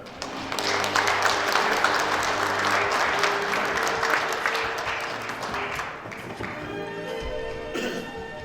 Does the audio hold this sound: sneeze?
no